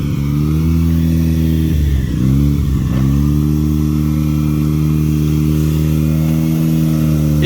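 Mazda FC RX7 rotary engine, sitting unused for years, idling loudly and blipping its revs a couple of times early on while backing out of a driveway, then holding a steady droning idle.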